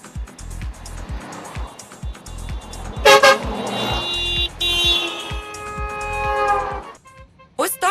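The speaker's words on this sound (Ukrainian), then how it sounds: "Зустрічні водії сигналять, перехожі зупиняються та знімають на відео." Oncoming drivers honk their car horns at a convoy of car fans heading to a stadium, with several sharp toots and longer blasts of different pitches sounding over rumbling engines and passing traffic.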